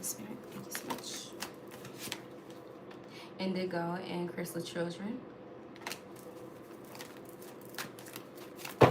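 Oracle cards are shuffled by hand in steady, crisp riffling bursts, with a person talking over part of the shuffling.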